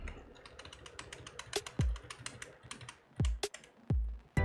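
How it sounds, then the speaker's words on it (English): Frantic keyboard clicking of Control Z during digital drawing, a quick irregular stream of close, crisp key taps with several heavier thumps mixed in and no talk. "That's me frantically clicking Control Z"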